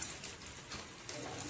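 Monsoon rain falls steadily in a soft, even hiss of drops on surfaces, faint and close, with no voices over it.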